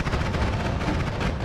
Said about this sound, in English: We got fucking explosion projectiles